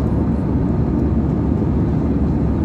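Steady, loud airplane cabin drone during flight, a dense low roar with no breaks and no voices.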